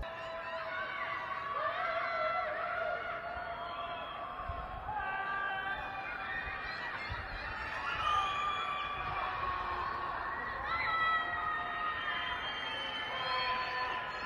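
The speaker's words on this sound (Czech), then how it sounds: "v noci mezi paneláky jsou slyšet jejich frustrované výkřiky" Locked-down residents shout in frustration at night between Shanghai apartment blocks, their distant raised voices echoing in long, wavering cries that overlap and rise and fall over a dull background hum.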